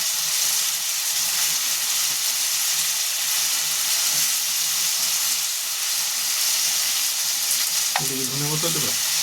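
Fish sizzles steadily in a pan with a little water for a mustard-poppy seed curry, a loud, constant frying hiss with bubbling throughout, then a brief voice-like tonal sound near the end.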